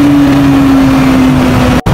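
A large restaurant kitchen exhaust fan machine runs loudly and steadily with a constant drone and a strong tonal hum, cut by a brief dropout near the end.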